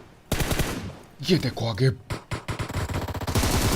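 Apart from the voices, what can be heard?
gunfire in a video game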